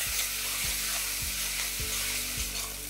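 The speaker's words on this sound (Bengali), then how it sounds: "এবার যতক্ষণ না পেঁয়াজটা একদম লাল লাল হয়ে ভাজা হচ্ছে, ততক্ষণ এটাকে কুক করতে থাকুন।" Chopped onions fry in a pan with salt for a black cumin mutton dish, giving a constant close sizzle and crackle with soft regular stirring scrapes about every second.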